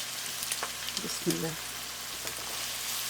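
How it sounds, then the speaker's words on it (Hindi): Ginger garlic paste fries with softened onions in a pan, a soft steady sizzle with a few light stirring clinks and scrapes, fairly quiet and close. "जिंजर गार्लिक पेस्ट को हल्का सा रोस्ट करेंगे"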